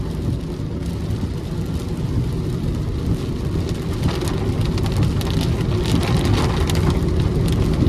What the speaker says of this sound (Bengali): প্রচন্ড পরিমাণ বৃষ্টি হচ্ছে